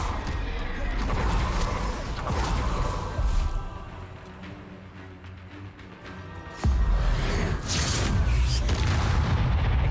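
Spell explosions from the Bombarda curse in the Hogwarts Legacy video game, deep booming blasts and bursts over a busy combat soundscape, with a heavy impact jolting in partway through.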